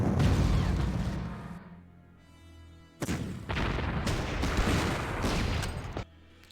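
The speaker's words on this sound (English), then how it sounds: "Of course another airstrike." Airstrike explosions in the strategy game Panzer Corps: two heavy, loud blasts with rumbling, crackling bursts, separated by a brief quieter gap, up close.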